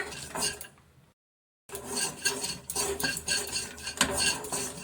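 Peanuts, white sesame seeds and whole black peppercorns dry-roasting in an open pan, with steady scraping and clinking of a spoon stirring them, interrupted by a brief silent gap before the busy stirring resumes up close.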